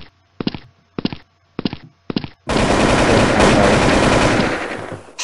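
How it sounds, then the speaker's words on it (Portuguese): Minigun fire in the BloodStrike video game: four short spaced bursts, then a loud sustained stream of rapid gunfire lasting several seconds, close and dominant with no talk. "Eu tô aqui testando uma minigun"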